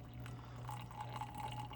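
Coffee poured from a moka pot after brewing, a soft continuous liquid trickle with faint dripping, steady and close, over a low background hum, no talking.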